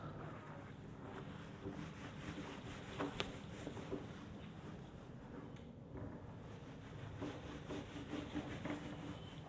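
Steady scrubbing on a classroom board as writing is erased, a continuous rough rubbing texture that runs evenly throughout without pauses, fairly faint and alone with no talking.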